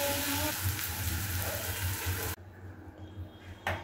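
A besan flatbread sizzles steadily in a hot pan after being flipped, a soft continuous frying hiss that drops away abruptly partway through, leaving quieter kitchen sounds.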